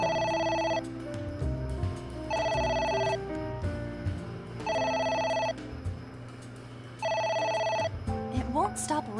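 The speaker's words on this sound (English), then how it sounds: "It won't stop ringing." A telephone rings in the video game Ai: The Somnium Files, four loud, evenly spaced electronic ring bursts repeating over game sounds while players talk.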